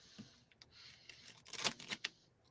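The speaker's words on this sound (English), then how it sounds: "I'm the worst shuffler in the world." Tarot cards being shuffled by hand: a quiet run of soft riffling and flicking bursts, densest toward the end, with a faint room background and no speech.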